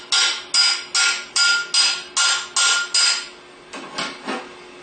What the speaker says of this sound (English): Start the rotor shaft into the bearing, then turn it upside down and tap on the outer plate.